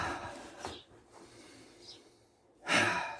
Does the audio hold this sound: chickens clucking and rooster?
no